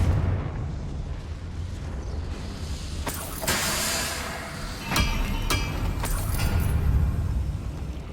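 Confringo fire spell in the video game Hogwarts Legacy, a loud deep rumbling blast with several sharp cracking bursts layered over a continuous roaring low boom.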